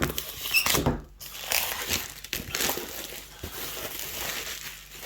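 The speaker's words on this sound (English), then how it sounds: "Oh, Lemmy, don't stand on the thing I'm trying to unwrap." Packaging of a Warhammer Kill Team box being unwrapped indoors, with close, irregular crinkling and crumpling of plastic wrap in short bursts and a few soft handling knocks.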